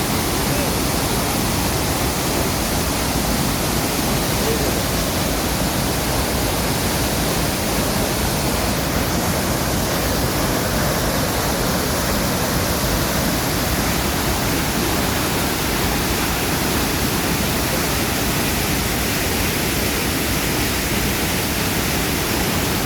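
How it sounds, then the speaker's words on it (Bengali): The upper part of Nafakhum waterfall in Bandarban roars loud and close, a dense, unbroken rush of falling water that fills the whole stretch without pause. "নাফাখুমের ঝর্ণার উপরের অংশটা"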